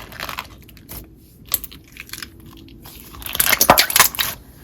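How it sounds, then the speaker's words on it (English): Crunchy slime mixed with beads and mushroom slices is squished and worked by hand, giving close, sharp crackling crunches in irregular bursts that grow denser and louder toward the end, with no talking. "There's some nice top crunch when you're playing with the beads"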